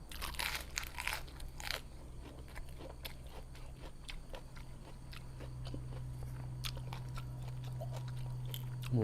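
Crispy deep-fried pork leg eaten with spicy mixed papaya salad crackles and crunches as it is bitten and chewed close up, a dense run of crisp snaps over a low steady hum.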